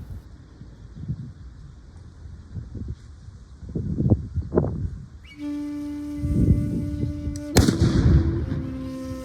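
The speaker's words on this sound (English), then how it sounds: "the gun trigger was actually pulled and there was a delay before the charge actually ignited" Japanese matchlock gun demonstrated at Matsumoto Castle, with scattered rustling and handling noises, a sustained hissing fizz as the charge ignites after a delay, then a sharp loud report followed by a ringing tail.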